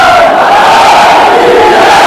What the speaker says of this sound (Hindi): केदार महाराज का जयकारा लगा दें।